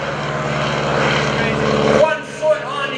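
A propeller airplane roars past overhead at the 2015 Greenwood Lake Airshow carrying a wingwalker on the top wing, engine droning loud and steady with pitch shifting as it passes, and an announcer's voice over a loudspeaker beneath.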